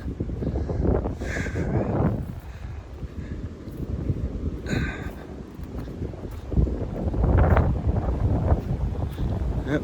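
Strong wind gusts buffet the microphone on a rocky Appalachian Trail section, a steady low roar that swells and eases throughout, with a brief faint voice partway through.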